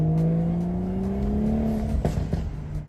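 BMW 335i with a tuned exhaust runs steadily with rising engine harmonics, then a short burst of sharp crackles and pops near the end as the revs drop, loud and close with no talking.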